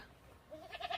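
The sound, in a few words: goat bleating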